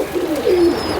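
A pigeon with good bone structure coos once or twice, soft and fairly close, with no voices.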